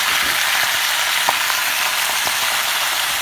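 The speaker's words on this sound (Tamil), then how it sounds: "நம்ம நெக்ஸ்ட் அதே பேனில் நம்ம கீரையும் வதக்கிடலாம்." Baby spinach sautés in a hot pan with a dense, steady sizzle that stays loud and constant throughout. Faint soft ticks and stirring touches sit under the frying.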